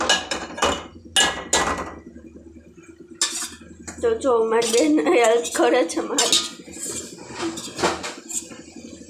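A spoon stirring pasta in a pot, with irregular metallic clinks and scrapes against the pot, close up, under someone talking and brief voices.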